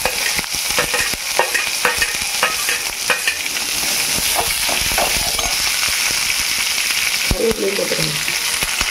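Onions sizzling in a hot pan of oil for idli upma, a steady loud frying hiss with light stirring clinks and scrapes throughout, close by.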